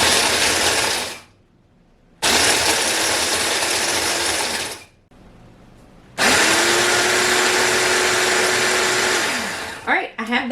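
A kitchen machine whirs loudly in three bursts with short pauses between, crushing vanilla wafers into fine crumbs; close, grinding motor noise that drops in pitch as it winds down, with a brief clatter at the end.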